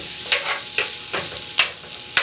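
Garlic, onion and ginger sautéing in a pan for mussels adobo in coconut milk, a soft continuous sizzle broken by four or five sharp scraping stirs of a utensil against the pan, close-up with no talking.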